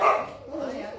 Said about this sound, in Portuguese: Esperar um pouquinho a cachorrada aí